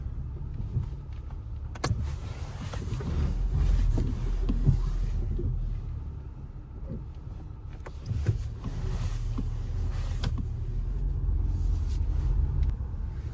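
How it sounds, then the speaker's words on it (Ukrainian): A Skoda Superb plug-in hybrid's 1.4 petrol engine idles quietly with a low, steady rumble, broken by a few faint clicks and knocks. "Тихенько працює двигун. Ледве чути його."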